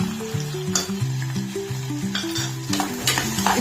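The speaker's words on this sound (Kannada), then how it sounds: "ಹಸಿ ವಟಾಣಿ ಹಾಕ್ತೀನಿ. ಇದು ಕಟ್ ಮಾಡಿದ್ದು ಗಜ್ರಿ ಮತ್ತು ಬಟಾಟಿ ಹಾಕ್ತೀನಿ." Green peas, chopped carrot and potato go into a hot pan of oil for vegetable pulao and are stirred, with a steady close sizzle and frying crackle under scraping strokes of the spoon.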